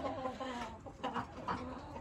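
A rooster in a tent coop in a garden gives a few soft clucks, close by, over steady low background noise, with no talk.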